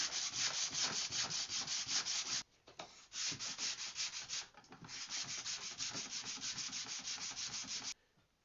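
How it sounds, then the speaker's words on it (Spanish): Close, rhythmic rubbing of fine sandpaper over a wooden cutting board in fast back-and-forth strokes, pausing briefly twice before continuing steadily. "Ya pasamos lija gruesa con nuestro surco. Ahora estoy pasando una fina para darle el lijado final."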